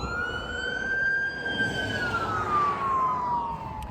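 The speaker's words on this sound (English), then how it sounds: "That's the ambulance." A single wailing ambulance siren slowly rises and falls in pitch over steady road and engine rumble, moderately close.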